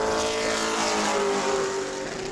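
A pro late model race car on a qualifying lap at New Smyrna roars loudly and continuously with a high, sustained engine whine that shifts slightly in pitch, heard alone with no talk.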